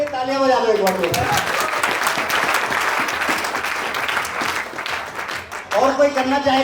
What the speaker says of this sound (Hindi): सबके लिए तालियां बजा दो एक बार